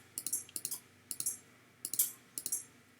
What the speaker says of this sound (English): I can hear things clicking in there, but it's not doing much.